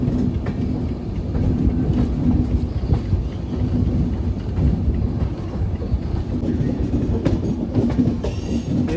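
An Indian Railways express, the Haridwar–Valsad Express, rolls along the tracks with a loud, steady rumble and rattle heard from inside the coach, broken by faint rhythmic clicks.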